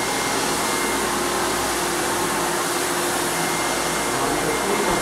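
A floor buffer works across wood flooring, producing a loud, unbroken broadband whooshing roar of motor and pad that stays constant from start to finish with no talking.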